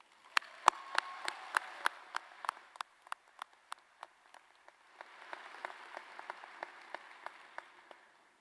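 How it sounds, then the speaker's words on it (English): An audience at a spring bachelor's graduation ceremony applauds, with crisp, scattered handclaps that are fairly faint and sparse. The clapping swells briefly again midway before thinning out. "Let's give them a round of applause."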